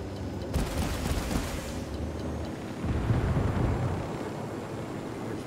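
A rumbling blast rolls out in the Ghost Recon Wildlands video game as a coca stock is destroyed, a dense, sustained roar that swells and then slowly fades, with no talk.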